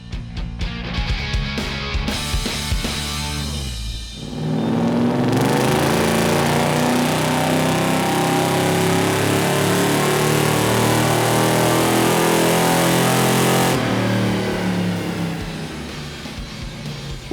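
A car engine fitted with an Edelbrock E-Force supercharger runs hard on a dyno, climbing from a choppy idle into a loud, sustained wide-open pull that holds steady for several seconds before dropping back down.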